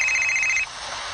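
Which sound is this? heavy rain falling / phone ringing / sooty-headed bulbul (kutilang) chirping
phone ringing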